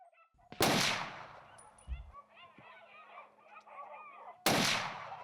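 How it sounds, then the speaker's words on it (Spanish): Two loud rifle shots ring out during a Portuguese driven boar hunt in the Alentejo, fired at a running wild boar, with geese or dogs calling between the blasts. "Disparo trasero al jabalí en carrera."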